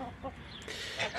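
A young rooster on a farm gives short, close clucking calls in a brief burst, with no talking.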